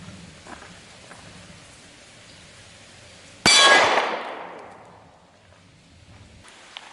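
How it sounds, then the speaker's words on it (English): A hollow point round fired into a Tofu 60 keyboard gives one sharp, loud report, a bright crack that decays over about a second, standing alone against a quiet background. "let's get right to the shooting."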